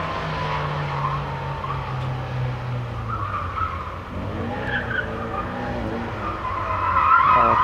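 A car on normal tires skids through a drift run, sending out long, loud tire squeals over a revving engine. The squeals rise and waver near the end, and no one speaks.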